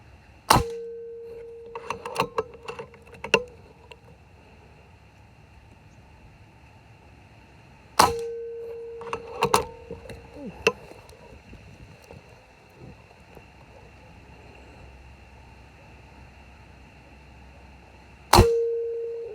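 A PCP Factor air rifle fires at a wooden target, giving three loud, sharp, ringing cracks several seconds apart. Lighter clicks and knocks come between them against a quiet background.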